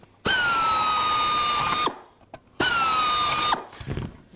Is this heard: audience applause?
no